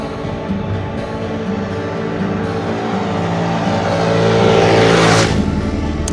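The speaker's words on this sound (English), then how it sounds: "Scooter test. You ready? Here we go." A small 50cc Jinlun JL50QT-5 scooter engine drones steadily and rises in pitch as it accelerates from 0 to 16 mph, loud and close, with no talking.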